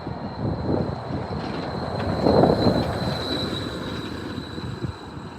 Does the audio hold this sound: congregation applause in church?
no